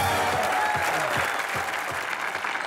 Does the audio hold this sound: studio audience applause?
yes